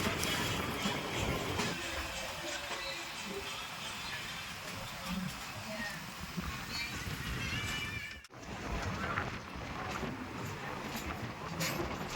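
Steady rumbling of a moving train, heard on board an overnight train nearing Dwarka, Gujarat, fills the clip, a continuous rattling drone with no pauses, dipping briefly near the end before resuming.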